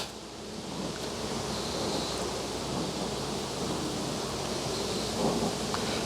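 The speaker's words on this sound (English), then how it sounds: "And the wind comes up." Wind gusts outdoors at a beehive during a hive inspection, a steady broadband rushing roar that swells slightly and buffets close up, with no talking.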